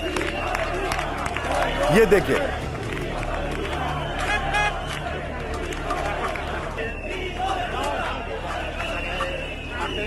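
Protest crowd noise around the German Chancellor and the Spanish prime minister, a continuous murmur of voices and shouting in the background throughout, with someone talking over it nearby.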